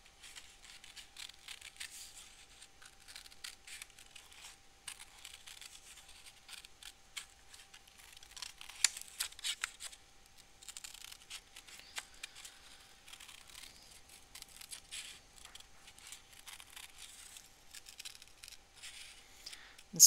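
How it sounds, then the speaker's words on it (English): Scissors snipping through paper in fussy cutting for a mandala, a steady run of small crisp clicks and rustles across the whole stretch, close and fairly quiet, with no talking. "So time for a little fussy cutting."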